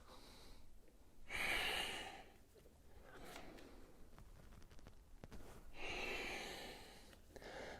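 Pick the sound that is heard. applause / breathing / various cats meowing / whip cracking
breathing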